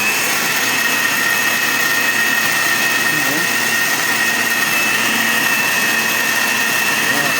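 A loud, continuous whirring drone of a blender blending leftover fruit, running steadily for several seconds with no pauses.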